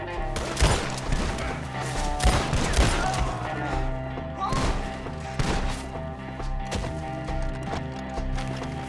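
Gunfire in Red Dead Redemption 2 during a shootout with enemies perched up in a tree, with scattered shots and sharp cracks over a busy game soundscape that includes horse hooves.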